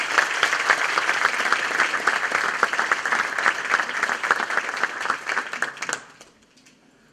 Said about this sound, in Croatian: molim da ga pozdravite jednim pljeskom